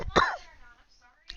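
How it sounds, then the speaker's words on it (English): A streamer who has been talking for a long time gives a brief, close, raspy cough or throat clear, followed by a few quiet mouth sounds. "And there's the coughing."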